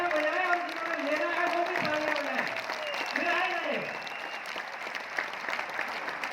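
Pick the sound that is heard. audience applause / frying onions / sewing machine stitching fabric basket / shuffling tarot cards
audience applause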